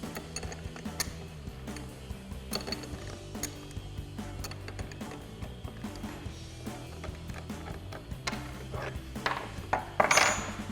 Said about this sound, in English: we'll go ahead and loosen up our nut here while holding the shaft still with our 6mm wrench